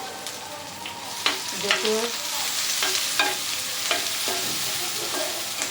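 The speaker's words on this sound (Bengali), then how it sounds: "পেঁয়াজ কুচি দিয়ে নিলাম।" Chopped onion fries and sizzles in a pan for chowmein, with steady hissing under scattered scrapes and stirring taps. Someone speaks briefly.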